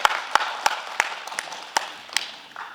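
A small gathering applauds a youth group at a community event, a short run of loud separate claps at an uneven rhythm that thins out toward the end.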